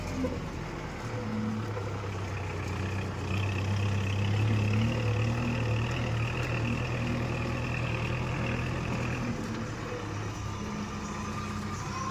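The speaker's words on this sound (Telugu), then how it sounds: "ఇప్పుడే మన రాంకసామాల బండి వస్తుంది" A truck engine rumbles steadily nearby on a rain-soaked muddy dirt road, a low continuous drone that swells slightly as it approaches, with no talk.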